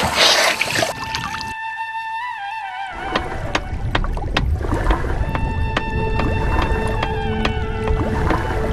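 Gangetic river dolphins in the rivers of Assam, heard underwater: rapid trains of sharp echolocation clicks alongside rising and wavering tonal whistles over a steady watery hiss, fairly loud and continuous without voices.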